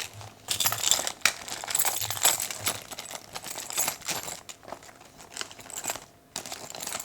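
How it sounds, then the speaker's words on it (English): Keys on a long lanyard drop into a vintage Louis Vuitton Marly bag, giving close, repeated crinkling rustles and light metallic clinks as they settle among the contents. "Keys."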